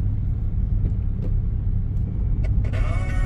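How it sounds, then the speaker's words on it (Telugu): A car cruises in third gear near a speed breaker, a steady low rumble of engine and road noise from inside the cabin with a few faint knocks and a rising whine near the end. "third gear moving and speed breaker దగ్గర థర్డ్ గేర్ మూవ్ చేస్తున్నారు"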